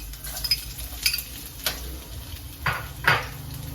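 Garlic fries on a stovetop for Jamaican-style lasagna, a soft steady sizzle punctuated by several spoon scrapes and clinks against the pan.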